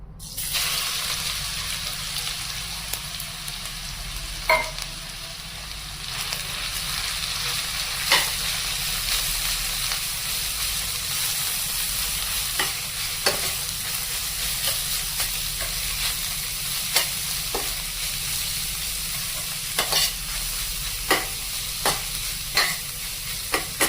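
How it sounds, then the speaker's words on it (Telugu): Grated bottle gourd frying in a kadai for halwa, a steady close sizzle running throughout with regular scrapes and clicks of stirring, no talk. "ఇదే కడాయిలో మనం ఇందాక తురుము పెట్టుకున్న సొరకాయ తురుము కూడా ఇందులో వేసేసి ఫ్రై చేసుకుందామండి"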